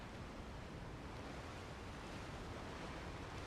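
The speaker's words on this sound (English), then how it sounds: "we've got a waterfall that is emptying into an abyss of clouds" A waterfall pouring into clouds in the video game Monster Hunter XX, heard as a soft, even, continuous rush of falling water that stays unbroken and fairly quiet throughout.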